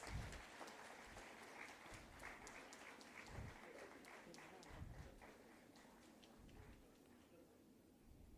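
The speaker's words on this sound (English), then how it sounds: "Please give a big round of applause." Audience applause rises and fades at a formal academic gathering in Coimbatore, a faint, distant patter of clapping from a hall with an announcer's voice over it.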